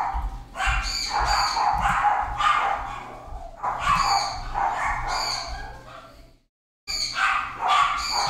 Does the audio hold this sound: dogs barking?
yes